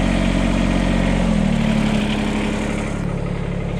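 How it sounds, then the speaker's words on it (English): A Kubota BX compact tractor's diesel engine idles loudly and steadily nearby on a cold morning, warming up, its low rumble holding an even rhythm throughout. "I wanted to let the tractor warm up for a little while"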